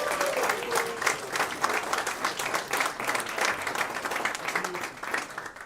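At a youth reception, an audience gives a speaker a round of applause, a steady patter of many hands clapping at moderate distance, with a few faint voices mixed in.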